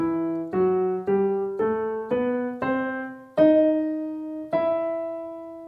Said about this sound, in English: harmonic minor scale sounds like this.